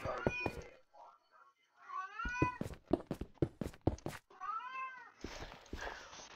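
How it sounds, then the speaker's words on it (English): A pet cat meows several times up close, the cries rising and falling, with sharp clicks scattered between them during a Minecraft gaming session. "My cat is meowing."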